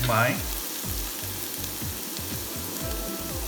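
Garlic sautéing in a pan for chicken and sweet corn soup: a steady, close sizzle and fry with soft stirring scrapes throughout, and no talk.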